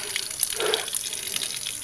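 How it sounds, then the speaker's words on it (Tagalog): Water runs steadily inside a small hut, a continuous splashing flow like a tap or spout pouring, fairly close and heard alone without talk. "Natuklasan na natin yung tubig na ginagamit ng matanda."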